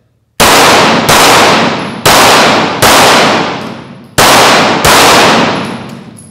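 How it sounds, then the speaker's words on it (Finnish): A Finnish police service pistol fires six loud, close shots in quick, slightly uneven succession, each sharp crack followed by a short ringing decay. "Mutta ammutaan taas vähän lisää, niin saadaan vähän tuntumaa taas tähän"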